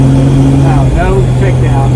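A 1966 Dodge Dart GT's engine drones loud and steady at about 50 mph as the driver floors it for a kickdown, with a low sustained hum from inside the car and no downshift.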